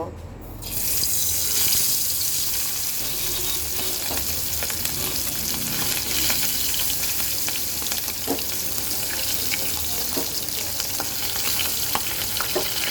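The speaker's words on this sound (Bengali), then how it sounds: "তো চলো সুন্দর করে মাছগুলো ভেজে নেই" Tengra fish fry in hot oil in a wok, a loud, steady close-up sizzle that starts after a brief quiet moment, with occasional pops and spatters.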